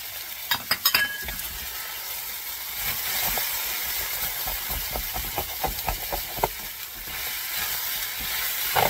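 White onion frying in oil in a pan, a steady soft sizzle with scattered scraping and clinking as a utensil stirs it, close and unaccompanied by voices.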